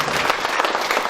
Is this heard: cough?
no